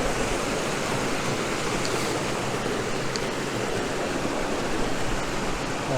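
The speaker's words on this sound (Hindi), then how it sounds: "ऊपर एक झील है, और उससे पानी जा रहा है नीचे" A mountain stream runs downhill from a loch at Grey Mare's Tail in Scotland, making a dense, steady rushing roar close by with no pauses.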